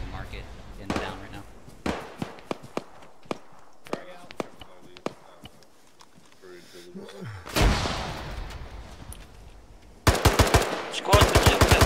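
Gunfire in the military shooter Arma 3: scattered single shots cracking at intervals, then a heavy blast and finally a loud rapid burst of automatic fire, with radio chatter from players in between.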